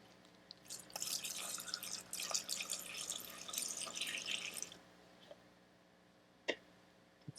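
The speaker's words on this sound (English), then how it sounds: "I'm just going to pour right from the container into the saw." Liquid poured straight from a container into the tank of an old Stihl 021 chainsaw, a steady trickling splash for about four seconds that then stops, followed by a couple of faint drips and clicks.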